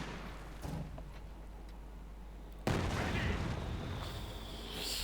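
Heavy artillery fire from big guns in a Company of Heroes 2 battle, with a distant boom followed by a loud, sustained blast and rumble that rolls on for several seconds amid battlefield noise.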